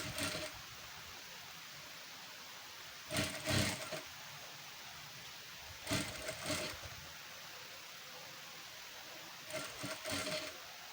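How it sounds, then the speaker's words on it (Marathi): A sewing machine stitches a blouse in three short bursts spaced a few seconds apart, each a quick rattling run of the needle over a steady room hiss, with no talking. "तर अशी शिस्तीत आपण अशी टीप मारून घेऊया"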